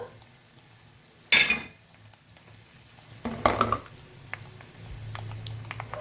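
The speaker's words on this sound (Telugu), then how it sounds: "ఇప్పుడు కరివేపాకు వేస్తున్నానమ్మా" Curry leaves drop into hot oil in a pan for ridge gourd chutney, giving a sharp sudden sizzle. A second burst of frying and stirring follows, then a low steady crackle.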